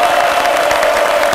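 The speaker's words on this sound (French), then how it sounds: "Je voudrais qu'on applaudisse très très fort déjà" A studio audience at a midday television show applauds and cheers loudly, a dense continuous roar of clapping and voices with no break.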